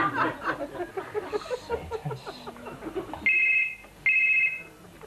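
A telephone rings twice in clear electronic trills after a stretch of laughter and talk from a stage audience.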